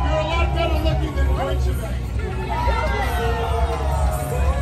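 Lively crowd hubbub along the route of the NYC Pride Parade beside a Citi Bike float, with overlapping voices, chatter and scattered cheers forming a dense, continuous wash of sound.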